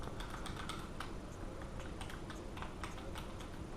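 Rapid, continuous clatter of computer keyboard keys being pressed during PC gaming, dense irregular clicks close to the mic with no talking.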